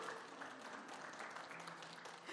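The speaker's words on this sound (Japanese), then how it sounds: "ぜひ皆さんからの激励の大きな拍手でお見送りください" Sustained applause from a boat race crowd seeing off winner Imamura Nobutaka at the Monthly BOATRACE Cup, steady dense clapping throughout, fairly distant and soft.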